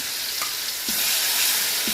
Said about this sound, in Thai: ตั้งกระทะน้ำมันพอร้อนแล้วก็ใส่ พริกลงไปเลยนะครับ